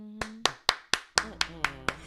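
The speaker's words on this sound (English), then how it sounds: "I'm going to clap for myself." One person claps alone, about nine sharp, close hand claps at a quick, slightly uneven pace, with a brief voice heard at the start and near the middle.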